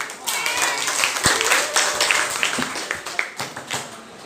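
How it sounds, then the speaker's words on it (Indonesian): Classroom applause from students, a burst of scattered hand clapping that carries on steadily, with voices mixed in beneath it. "Tepuk tangan dulu dong."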